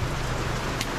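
Heavy rain pours steadily outdoors in the evening, a dense, constant wash of hiss with no breaks, loud and close, with no voices over it.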